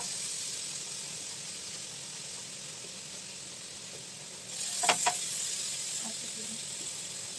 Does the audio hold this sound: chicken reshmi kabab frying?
yes